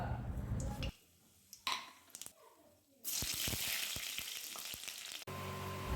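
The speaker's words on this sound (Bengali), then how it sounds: "দিয়ে দেব পেঁয়াজ কুচি, দিয়ে ভালো করে একটু নাড়াচাড়া করে নেব" Chopped onion hits hot oil in a wok already tempered with dried red chilies and cumin, setting off a loud, steady sizzle. Scraping and stirring clatter sounds through it, after quieter frying and a few clinks.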